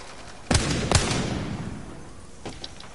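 Video game gunfire, two sharp close shots in quick succession followed by a fading echo, then a weaker, more distant report near the end.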